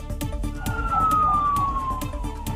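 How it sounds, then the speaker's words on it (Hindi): Ambulance sirens wailing across Karachi at night, a gliding siren tone sweeping downward over a busy bed of rhythmic clattering noise, heard at middle distance without talk. "एम्बुलेंस के सायरन की आवाजें पूरे शहर में गूंजने लगी"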